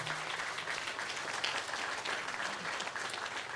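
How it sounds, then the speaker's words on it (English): An audience at a research center's 75th anniversary event applauds, a steady, even round of clapping held throughout at moderate level with no voices over it. "let's give her a round of applause for the work that she's done"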